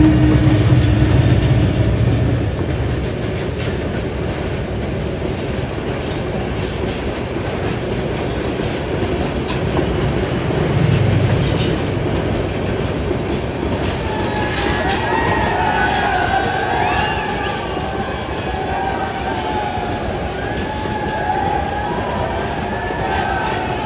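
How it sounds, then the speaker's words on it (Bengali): A train rolls past very close by at a crowded crossing point, a loud steady rumble of wheels on rails with clickety-clack and brief high squeals of wheels, with voices talking over it throughout. "এই যে ট্রেন কিন্তু একদম কাছাকাছি চলে আসছে"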